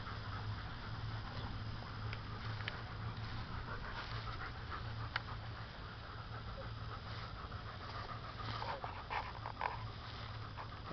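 A German Shepherd pants steadily and rapidly close to the microphone, a continuous rhythmic huffing that lasts throughout, with a low background hum beneath it.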